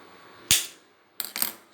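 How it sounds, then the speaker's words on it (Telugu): A gas stove is switched on in a kitchen: one sharp, loud click, a short pause, then a quick pair of fainter ignition clicks. "సో ముందుగా మనం స్టవ్ ఆన్ చేసుకుందాం."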